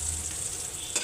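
Okra fries in a pan, a steady close hiss of oil crackling with no pauses, lasting about a second and ending with a small bump of movement.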